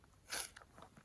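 Crunchy frozen snack bitten and chewed outdoors at a snowy wilderness campsite after a blizzard, one sharp crunch followed by a few softer chewing crackles, close and quiet.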